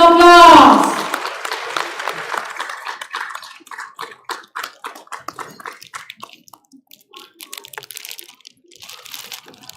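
Applause at a community Hussain Day gathering in a courtyard, starting with a loud burst of clapping that thins into scattered, uneven claps, with a voice over the start.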